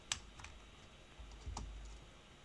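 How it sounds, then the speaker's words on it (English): Sparse keystrokes on a computer keyboard, a few separate clicks at an uneven pace, quiet and close, with no talk. "my typing is really bad today"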